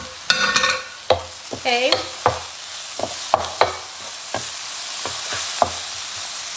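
A pan of mushrooms stirred and frying with a close, busy sizzle, punctuated by repeated scrapes and clacks of a utensil against the pan; a voice briefly speaks at the start.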